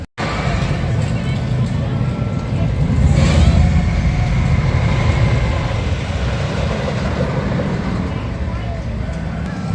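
A rollercoaster car on the Wicker Man ride rushes past as a broad, steady roar that swells midway. Nearby crowd voices and chatter run underneath.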